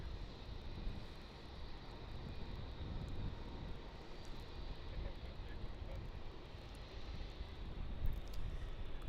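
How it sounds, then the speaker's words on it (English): A Cathay Pacific Airbus A350 taxiing at Melbourne Airport produces a steady, distant jet engine rumble and whine, faint and continuous, with a voice talking over it. "A350 flight CX135 from Hong Kong making its way over there to Terminal 2"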